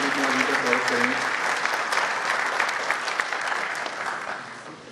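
A large convention audience at SKUAST-Jammu applauds loudly to welcome Professor Pradeep Kumar. Thick, continuous clapping fills the hall, with a voice briefly audible at the start before the applause fades out.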